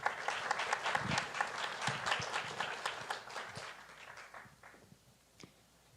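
At a Falling Walls Lab science pitch event in Ecuador, an audience claps for a presenter: a moderate burst of applause with distinct individual claps, heard from a distance and gradually tapering off.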